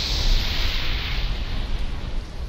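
Thunder rolls from a lightning storm amid rain in Conan Exiles, a loud continuous broadband rumble that swells in the first half second and stays heavy and sustained throughout, with no voices over it.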